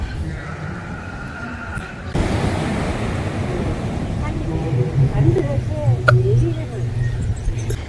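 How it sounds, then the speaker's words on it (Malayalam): Strong sea waves surge and crash onto the shore behind Kattil Mekkathil Devi Temple in Ponmana, Kollam, a steady roaring wash with wind noise, swelling louder after the first couple of seconds, with people talking over it. "തിരമാലകളെല്ലാം അതിശക്തമായിട്ട് ഉണ്ടെന്ന്"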